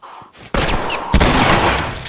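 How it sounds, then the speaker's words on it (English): A shotgun blast in The Last of Us, a loud, close boom that cuts in sharply after a quieter moment, followed by a second heavy blast and a long, noisy rumbling tail. "A shotgun blast."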